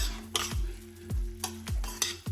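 Aubergine stifado with bay leaves cooks in a pan, a soft sizzle under repeated spoon strokes scraping and stirring in a steady rhythm, close and fairly quiet.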